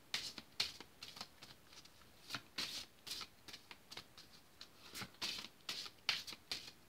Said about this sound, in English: let me shuffle these up really good